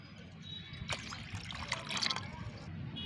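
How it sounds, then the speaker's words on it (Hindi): Plain water poured into homemade plant fertilizer, a faint, short trickle and splash of liquid against a quiet background with brief low sounds. "जितना फर्टिलाइज़र है उतना ही पहले इसमें सादा पानी मिलाते हैं।"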